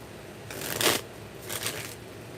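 Tarot cards shuffled by hand in two quick, crisp riffling bursts, close and fairly soft, with a short gap between them and no talk.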